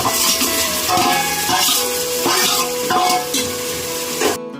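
Onions and tomatoes for chicken biryani frying in a pan, a loud continuous sizzle with stirring and faint clinks of utensils against the pan, close by with no talk.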